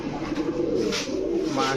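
A male Giribaz racing pigeon coos repeatedly in a loft, a close, steady run of low throaty calls with restless flock activity behind it.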